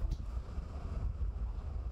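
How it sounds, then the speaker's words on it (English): Low, rumbling wind buffets steadily throughout, a continuous muffled roar with no voices. "It's just a little windy."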